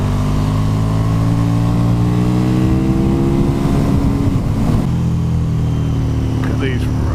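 A 2017 KTM 1290 Super Duke R motorcycle engine drones loud and steady while riding, pitch slowly dropping then settling, with heavy wind rush over it.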